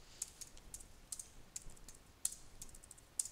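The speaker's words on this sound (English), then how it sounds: "You can type it in using that keypad." Fingers tapping numbers on a calculator keypad or computer keyboard, a quiet run of about a dozen light, irregular clicking keystrokes, with no one speaking.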